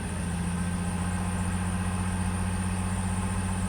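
A 2001 Chevrolet S10 Blazer idles cold in a driveway, giving a steady, even engine hum with no talk over it.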